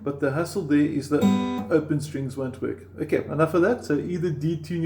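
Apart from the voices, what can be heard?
No everyday noise stands out behind the speech.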